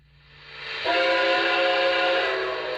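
A Lionel model steam locomotive whistle swells up and holds a long, loud, breathy chord for a couple of seconds, then fades slightly.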